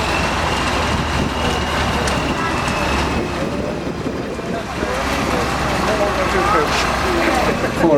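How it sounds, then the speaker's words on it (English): A big Leyland heavy recovery lorry, four axles and eight wheels, rumbles past in a vehicle parade, a steady low engine drone with traffic-like noise lasting throughout, under a commentator's voice. "Following on now is the big Leyland. Making its way, this is a heavy recovery."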